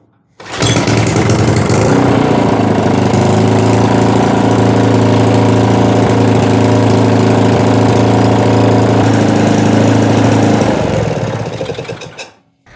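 A garden tiller's small engine catches and runs loud and close at a steady, even roar for about ten seconds, then quickly winds down and cuts off, with no voices over it.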